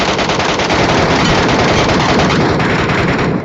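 Loud, dense rapid gunfire in the Metro Royale game, rattling bursts that continue close and unbroken for the whole stretch.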